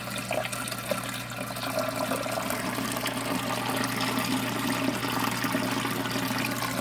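Steady water pouring into an aquarium sump's overflow box while a pump pushes water back up to the tank during a power outage; a continuous close rushing and trickling fills the whole stretch, with no voices.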